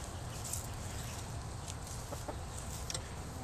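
Rhode Island Red or New Hampshire Red hens cluck in soft, scattered calls over a constant noisy outdoor background, faint and somewhat distant.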